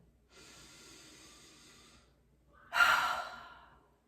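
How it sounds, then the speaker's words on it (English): A slow inhale followed by a forceful, breathy exhale, close and alone in a quiet room, during a calming somatic exercise. "Take a breath."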